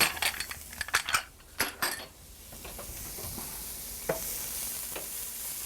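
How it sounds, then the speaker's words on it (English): Chopped celery, green onions, bean sprouts and parsley are stirred in a pan for fried rice, with clattering utensil scrapes and knocks at first, then a steady soft sizzle underneath, close and fairly quiet. "I'm probably going to stir this, cook it for maybe 3 to 4 minutes only over medium-high heat"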